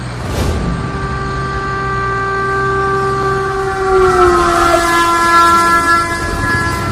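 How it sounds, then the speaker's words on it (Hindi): A train approaching on a railway line, its loud horn holding several steady tones over a continuous rumble of the rails that swells as it draws near, with no voices. "इसी लाइन पर आगे से ट्रेन आ रही है।"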